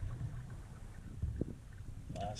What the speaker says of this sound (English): Bucking a pretty strong wind.